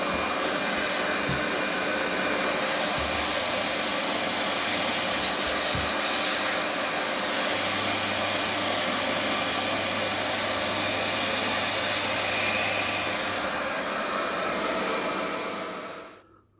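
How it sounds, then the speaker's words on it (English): A hot air plastic welder blows steadily while welding polypropylene clips inside a DIY bio chamber, a loud continuous rushing hiss with a faint low hum beneath, close up, before it cuts off at the end. "I've got them clips welded in at the bottom that's going to hold the air pipe in place"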